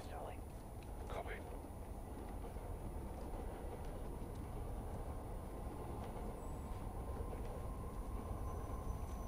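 Train rumbling past overhead in the video game Call of Duty Modern Warfare, a continuous low heavy rolling roar at moderate level with faint metallic squeals, while a voice speaks over it.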